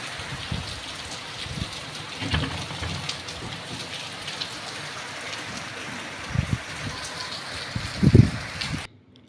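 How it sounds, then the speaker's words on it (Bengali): Outdoors, rain falls in a steady, even hiss, with a few louder patters and splashes, and cuts off abruptly near the end. "দেখুন বাইরে কি বৃষ্টি হচ্ছে"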